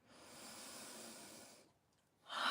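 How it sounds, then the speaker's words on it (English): A long, slow inhaled breath fades away, then a forceful open-mouthed 'haaa' exhale begins, part of a qigong breathing exercise during a live meditation. "Breathing in and a big ha."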